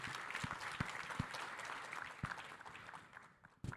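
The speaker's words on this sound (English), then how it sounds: "Let's give him a round of applause." Audience applause at a panel discussion on global trade and supply chains, dense clapping with several sharp individual claps standing out, fading toward the end before a last burst.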